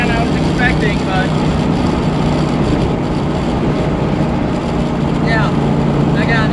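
A 1968 Shelby Mustang GT350 engine drones steadily while driving, a loud continuous low rumble with people talking over it throughout.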